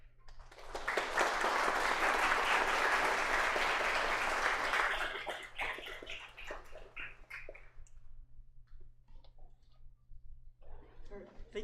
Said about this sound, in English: So one more round of applause for Shifra.